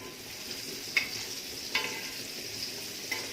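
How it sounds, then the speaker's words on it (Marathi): Pomfret fish liver fries in oil over a flame, giving a steady, faint sizzle and crackle with a few sharp spatters or utensil taps standing out at intervals. "फ्लेमवर कलेजी फ्राय करून घ्यायची"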